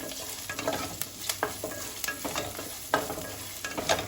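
Small Madras onions fry in oil for sambar under a steady hiss of sizzling, broken by repeated sharp scrapes and clacks of a spoon stirring them around the pan, up close.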